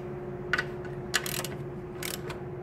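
Ratchet wrench tightening the mounting bolts of Brembo brake calipers on a Yamaha R1M motorcycle, giving three short bursts of clicking over a steady background hum.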